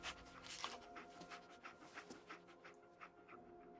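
Dogmeat, the dog companion in Fallout 4, pants in quick, steady rhythmic breaths at close range, the breathing faint and soft against a light background.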